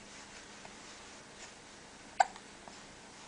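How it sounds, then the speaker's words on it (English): A baby gives one sharp, distinct hiccup in a quiet room, with a few much fainter small sounds around it. "You don't like having the hiccups, do you?"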